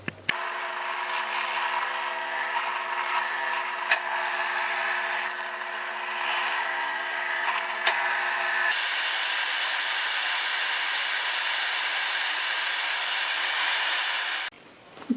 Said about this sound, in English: I'm going to go ahead and drill a couple of 1/4-inch holes here and put a little bit of lead in it